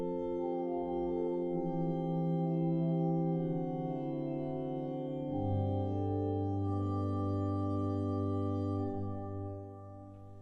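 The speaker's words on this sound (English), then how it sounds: "start with the Gedackt on the Swell division, very soft. Could add the Nason flute, 4-foot to that as well." Soft sustained organ chords on the 1908 Harrison & Harrison organ at Ely Cathedral, played on the quiet Swell Gedackt with the 4-foot Nason flute added, steady and mellow, the bass note shifting midway, with no talking.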